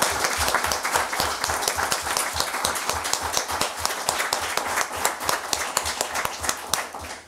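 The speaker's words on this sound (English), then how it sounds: "let's just have a round of applause for all the new council members" Steady round of applause from an audience at a town council meeting, welcoming new council members; dense, continuous clapping from many hands for about seven seconds.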